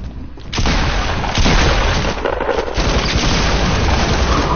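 Sniper rifle fire in a shooter video game: a heavy booming shot lands, then a second one, and a loud, dense rumble carries on steadily after them.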